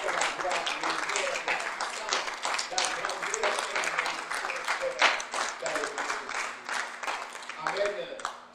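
A church congregation applauds in a dense, continuous patter of clapping that lasts several seconds, mixed with raised voices and cheering throughout.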